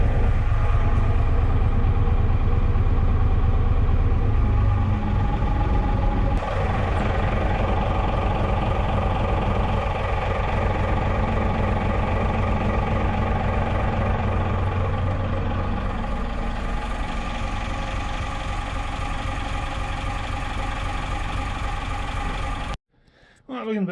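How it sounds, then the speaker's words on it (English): An old boat engine idles with a steady low rumble and chug, continuous and close, before cutting out abruptly near the end. "I love the sound of this old engine."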